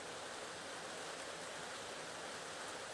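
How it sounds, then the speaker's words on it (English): Heavy rain falls outside near a backyard chicken coop, a steady, dense hiss that fills the clip evenly with no voices. "Do you hear how hard it's raining?"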